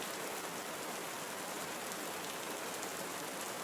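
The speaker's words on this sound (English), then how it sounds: "Rain can mask tinnitus by covering the ringing with its uniform sound." Steady tropical rainforest rain in Costa Rica, a dense, even hiss of drops falling on foliage and surfaces, constant and moderately close with no pauses or voices.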